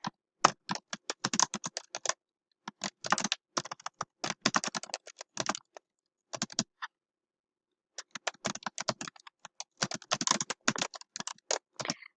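A student types a discussion post on a computer keyboard, crisp close key clicks in fast bursts separated by short silent pauses, with no voices and no other sound in between.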